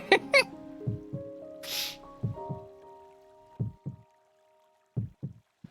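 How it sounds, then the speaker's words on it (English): A dramatic heartbeat sound effect from the Tomodachi Life video game thumps in paired beats, loud and isolated, separated by short pauses alongside soft game chimes. "The heartbeat. It's so dramatic."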